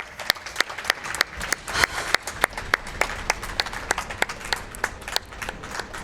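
Sharp, evenly spaced claps repeat steadily over a noisy background, a small round of applause at a speedrunning marathon event, with no voices.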